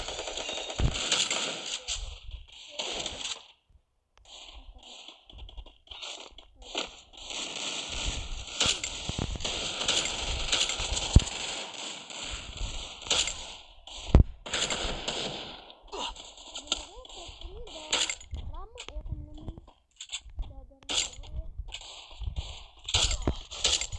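Woodpecker gun firing in a video game, loud rapid automatic bursts in long and short strings with brief gaps, mixed with game clatter and no speech.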